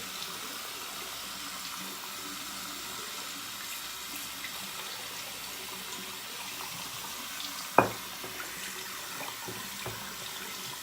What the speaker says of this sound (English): I'm going to rinse out my bowl a little bit